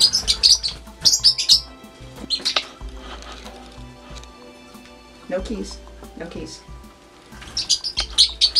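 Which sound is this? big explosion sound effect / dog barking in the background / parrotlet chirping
parrotlet chirping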